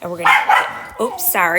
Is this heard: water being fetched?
no